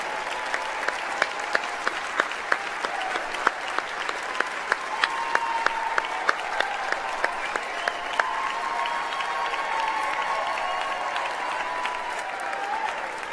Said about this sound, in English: Let's students give them a great big hand clap.